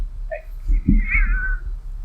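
A pet cat on a desk gives a short chirp, then a longer rising-and-falling meow, fairly close, over a low background hum and some faint shuffling.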